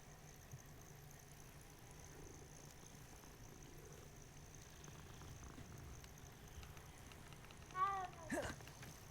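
A cat in the Hogwarts Legacy video game purrs softly and steadily when petted, a faint low rumble under quiet ambient game sound, with a short louder chirp near the end.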